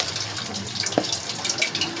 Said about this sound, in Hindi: अब यहाँ पर इसके अंदर पानी डालेंगे जिसका मैंने इसका थिक सा पेस्ट बना लेना है।